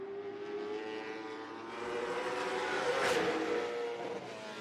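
Stock car engine holding a steady drone through a qualifying lap at Martinsville Speedway, swelling slightly as the car passes, loud and continuous with no talk.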